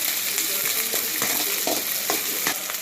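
Egg rice frying in a pan sizzles steadily while a spoon stirs it, scraping and knocking in an irregular rhythm, close and fairly loud, with no talking.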